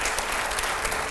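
Dense audience applause fills a TV studio, a steady wash of many clapping hands heard up close without any speech.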